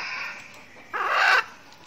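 An F1 junglefowl rooster, kept for nearly two years, gives one short, loud clucking call close by after a moment of quiet.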